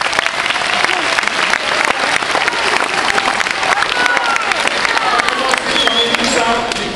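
Applause from an audience at a youth handball tournament event in Chaumont, dense, steady clapping that fills the space for the whole stretch, with faint voices mixed in.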